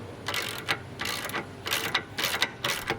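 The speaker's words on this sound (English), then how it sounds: "Unscrew and remove both nuts." Ratcheting wrench loosening nuts on a car's front track control arm, with repeated short bursts of ratchet clicking in a steady rhythm, close and fairly quiet.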